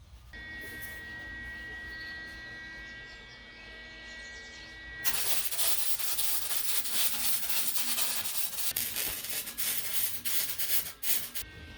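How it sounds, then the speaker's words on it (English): Welding on a steel rear rack for a school bus: after a quieter stretch with a faint steady tone, a loud, continuous crackling arc starts midway and runs close and unbroken to the end. "I'm about to do the final welds, and I wanted to get the alignment right."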